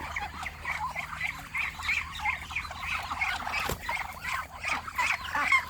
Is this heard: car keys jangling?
no